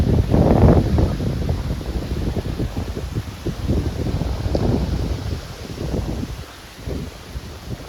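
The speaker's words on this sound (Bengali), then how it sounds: "গ্রামের পরিবেশে এই একটা মজা, প্রচন্ড বাতাস কিন্তু বৃষ্টি নাই" Strong, gusty wind sweeps through village trees before rain arrives, with heavy buffeting on the microphone and rustling leaves surging and easing in waves, loudest at the start.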